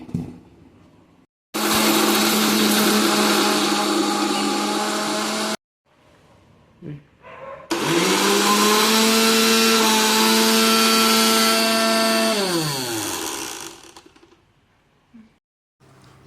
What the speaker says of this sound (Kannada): ಇದನ್ನು ಇವಾಗ ಮಿಕ್ಸರ್ಗೆ ಹಾಕೊಂಡ್ಬರೋಣ ಬನ್ನಿ